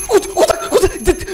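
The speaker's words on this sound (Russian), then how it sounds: "Так, будильник," An alarm clock rings inside a video game set in a wealthy schoolboy's apartment during a burglary, playing a repeating melodic tone pattern of quick pulses, fairly loud and steady, with no speech over it.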